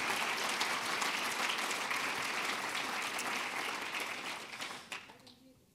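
An audience at an SPD parliamentary group conference on migration policy applauds, a dense, steady roar of clapping that fades out near the end, with a voice speaking over it.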